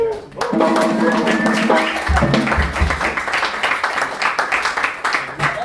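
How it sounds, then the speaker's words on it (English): An audience at a jazz concert claps for a guitar player, a sustained round of applause with some lingering musical tones early on, tapering into scattered claps toward the end. "Give a warm round of applause for him."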